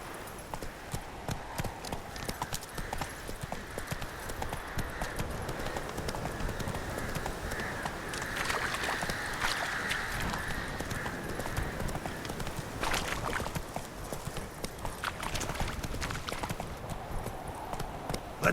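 Rhythmic galloping hoofbeats from Roach, the horse in The Witcher 3 game, steady and continuous across the clip with faint game ambience behind.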